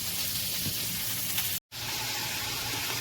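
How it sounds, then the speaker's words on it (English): Small beef patties frying in a pan, giving a steady, close sizzle throughout with a brief dropout midway. "I will be putting these in the pan and cooking them in small batches"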